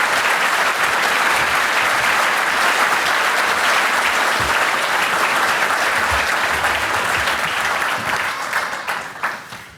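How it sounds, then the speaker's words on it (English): Audience applause at a college graduation ceremony, loud, dense sustained clapping from a large crowd that holds steady for several seconds before fading at the end. "Let's applaud."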